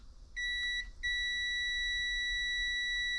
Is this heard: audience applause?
no